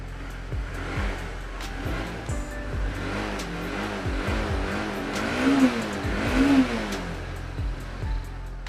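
A Honda CBR motorcycle engine idling and revving, a steady mid-pitched run with a couple of rising throttle blips near the end, close and continuous without talk.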